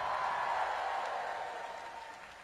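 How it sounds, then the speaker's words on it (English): A Japanese concert audience at a show applauds, a dense wash of clapping heard from a distance that fades steadily toward the end. "They applaud and then they stop."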